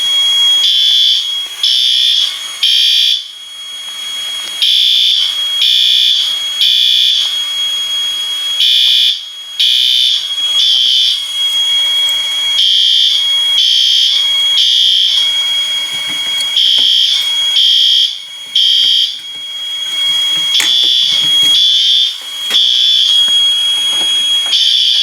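An L-Series fire alarm system blares during a test, a loud, shrill electronic tone pulsing in regular on-off bursts that repeat steadily without pause.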